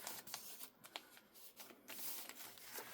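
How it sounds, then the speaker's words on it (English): A sheet of paper is folded in half for binding, a close, quiet series of crisp rustles and soft creasing swipes. "I'm going to fold this piece of paper in half"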